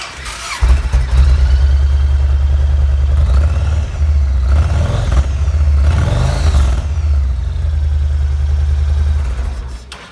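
A 2005 Yamaha XV1700 Road Star Warrior with 8,762 miles on it cranks and fires up after a short quiet moment. It settles into a loud, deep, lumpy idle and is blipped to higher revs twice before dropping back.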